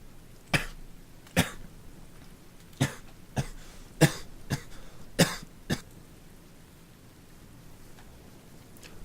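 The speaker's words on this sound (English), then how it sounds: "just had a coughing fit" A coughing fit from a man, with about eight harsh, close coughs in an irregular cluster over several seconds, then quiet room noise with no talking.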